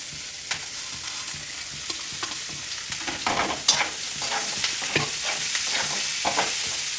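Chopped onion and chili are stirred into chickpeas frying in oil, producing a constant sizzling hiss with irregular spatula clacks and scrapes against the pan, close up and without talking.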